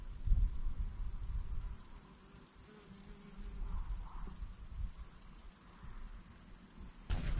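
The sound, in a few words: crickets chirping outdoors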